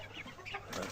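Young chicks and chickens cluck softly in a brief, faint burst, with soft farmyard calls blending over low background noise.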